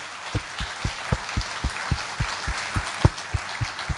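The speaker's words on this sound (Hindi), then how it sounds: "जो मैं तालियां बजा रहा हूं अभी आप लोगों के लिए" Steady, evenly paced hand claps, about four per second, ring out at an award event over a soft wash of background crowd noise.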